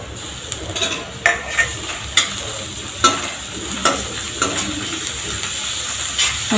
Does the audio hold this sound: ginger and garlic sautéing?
yes